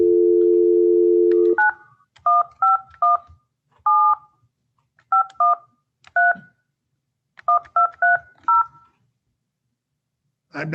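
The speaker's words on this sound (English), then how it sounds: "I dialed the number." Telephone dialing: a dial tone stops, then about a dozen clear DTMF keypad beeps sound in short clusters with gaps, loud and close, followed by silence.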